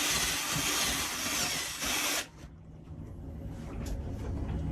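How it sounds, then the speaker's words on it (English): A power drill boring a hole beside a sink for a new tap whines loudly and steadily for about two seconds, then cuts out, leaving a quieter background hum. "Then we need to drill to add the new tap around the sink."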